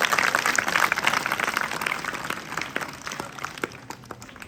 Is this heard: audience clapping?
yes